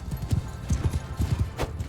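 Rapid, rhythmic clip-clop of cavalry horses charging in Mount & Blade II Bannerlord, many hooves pounding close and loud with a faint whinny and a little background voice.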